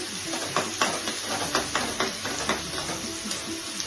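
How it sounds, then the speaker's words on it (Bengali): Onion paste hitting a hot pan where tangra fish and tomato have already fried, giving a steady close sizzle with repeated rhythmic scraping strokes of a spatula stirring throughout. "তারপর এখন আমি পেঁয়াজ পেস্টটা দিয়ে দিচ্ছি।"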